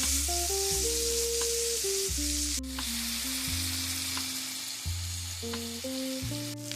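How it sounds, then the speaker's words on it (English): Shrimp sizzle in a pan with melted butter for parmesan shrimp orzo, a constant loud frying hiss running under steady background music. "we're going to add in our shrimp. We're going to let that cook for 3 to 4 minutes."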